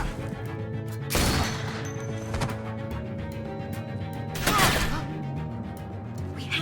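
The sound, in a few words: gunfire in The Walking Dead video game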